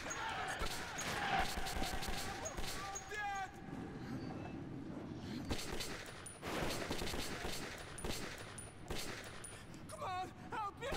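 Gunfire in the video game Metro 2033, with bursts of shots and impacts scattered through a busy stretch of game sound while a player talks over it.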